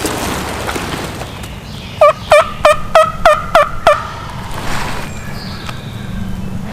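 A wild turkey gobbles in a fast rolling series of about eight sharp notes during a spring hunt, fairly close and clear over faint outdoor background.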